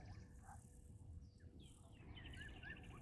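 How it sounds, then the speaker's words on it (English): A black-headed oriole calls in the distance with a couple of faint, brief whistled notes late on, set against a steady outdoor hum of insects and wildlife at a waterhole. "We got a black-headed oriole calling in the distance."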